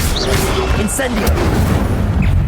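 An Incendio fire spell cast in Hogwarts Legacy bursts with a loud, dense whoosh and crackle, part of a continuous stream of combat effects with brief higher flashes.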